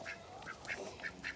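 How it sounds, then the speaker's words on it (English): Several ducks, including Muscovy ducks, quack in a freshly bedded farm pen shared with geese, about five short, nasal quacks in quick succession, close by and clear. "And we have the mucky ducks and the muskies."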